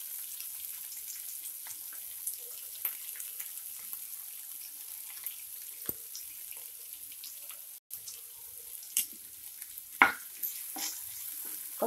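Curry leaves and ginger-garlic paste fry in a pan for a Diwali vegetarian thali, giving a soft, steady sizzle with a few sharper crackles and spatula taps scattered through, no voices.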